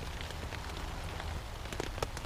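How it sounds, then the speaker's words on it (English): Rain patters on the canvas of a Polish poncho tent during a storm, a steady close hiss of drops with a few sharper taps, and no talking. "Hopefully it'll pick up the sounds of the rain on the canvas."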